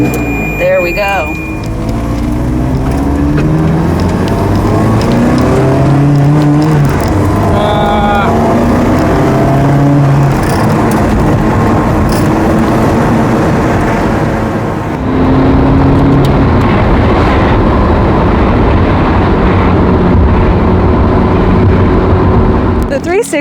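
Ferrari 360 Challenge Stradale engine droning loudly and continuously while driving, pitch climbing and dropping through gear changes, close and dominant throughout.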